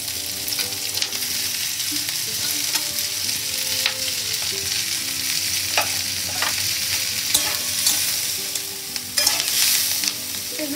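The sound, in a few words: onions and carrots frying and being stirred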